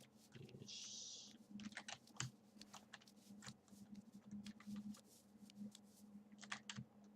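Computer keyboard keys pressed repeatedly while playing the PC adventure game Syberia 3, a run of irregular close clicks and taps layered over soft game background sound, with no talking.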